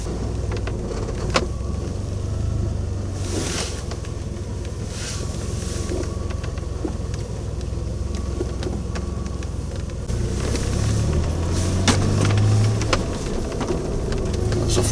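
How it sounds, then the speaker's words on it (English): A DeLorean DMC-12 rolls along the road on new Hankook Kinergy ST tires, a steady low engine and tire rumble with wind noise from inside the cabin and a few faint clicks and rattles. "Take a little test drive with the new tires."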